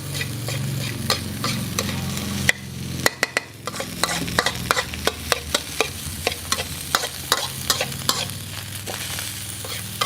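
Nasi goreng fried rice is stirred in a hot pan, a spatula scraping and tapping in quick repeated strokes over a constant close sizzle, with no talking.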